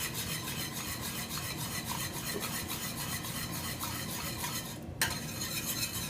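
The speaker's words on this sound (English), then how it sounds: "I'm going to just kind of start whisking this and getting everything" A whisk works vegan mac and cheese sauce, reddened with tomato paste, in a pot, giving a continuous close scraping and swishing rhythm with a faint sizzle underneath and a brief knock near the end, with no talking.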